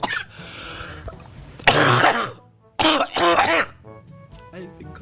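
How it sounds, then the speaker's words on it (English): Harsh, close throat clearing and several rough coughs in separate bursts, loud against a quiet room, with short pauses between fits. "I've been coughing like this for so long."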